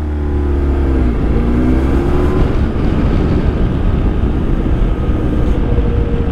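Car pulling away hard in second gear on a tar-sealed road out toward French Pass, the engine note climbing steadily, loud and close, with a brief gear-change dip before a sustained rising drone.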